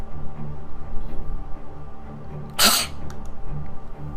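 A single voice imitates a sneeze that comes out as a pitiful cough: one sharp, breathy burst partway through, set against quiet room murmur.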